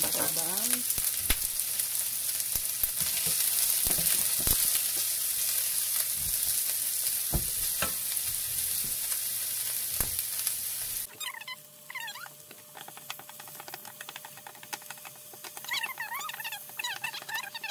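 Onion fries in a pan as the start of a spinach omelet, crackling and spitting steadily up close with scattered sharp pops, then settling into a quieter, softer sizzle partway through.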